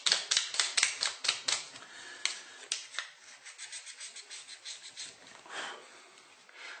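Bone banjo nut sanded by hand on 600 grit sandpaper, a run of quick, close scratchy strokes in a steady rhythm, brisk at first and then softer and more even.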